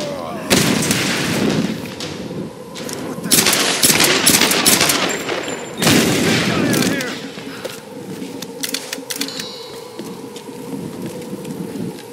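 Gunfire from the video game Tomb Raider 2013 at a base exterior: loud, dense bursts of rapid shots and crackling fire in a few waves, easing into softer, sparse noise with shouted voices mixed in.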